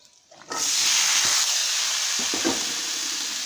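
Cut radish, carrot and cauliflower drop into hot frying spices, setting off a sudden loud, steady sizzle that hisses on without pause, with a few faint stirring knocks.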